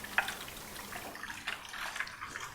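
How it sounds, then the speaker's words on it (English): Raw turkey pieces are rinsed under running tap water in a kitchen, giving a soft, steady trickle and splash with faint clatters, fairly quiet and with no talking. "Okay, so you wash your turkey."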